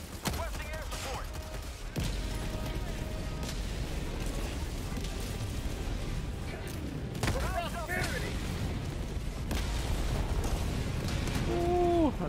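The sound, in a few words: explosions around player in video game Helldivers 2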